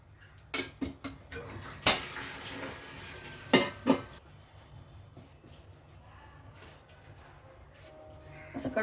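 Cooked dal and vegetables are moved into a steel pot with sharp metallic clinks and scrapes of a spoon against steel. The bumps are irregular and fairly close, and someone talks quietly between them.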